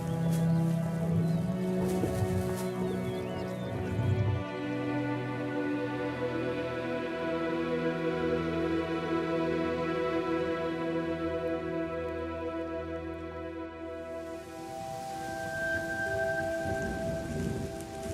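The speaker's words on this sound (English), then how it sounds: "But in the northern Serengeti, unscheduled showers are nothing unusual." Rain falls steadily in the northern Serengeti, a dense continuous hiss of drops on the ground and vegetation, with a deep rumble of thunder rolling beneath it for the full length.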